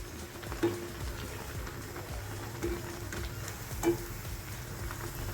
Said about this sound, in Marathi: आपला वडा आपण स्लो फ्लेमवर तळून घ्यायचा आहे